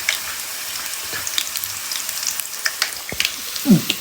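Garlic and dry red chillies fry in hot oil for puliyogare, giving a steady close sizzle with scattered crackles and pops and a brief stirring scrape near the end.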